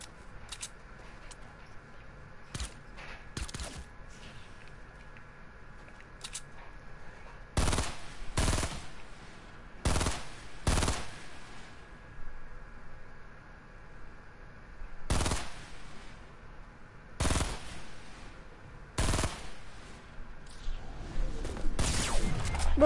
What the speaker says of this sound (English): try to shoot him out of the air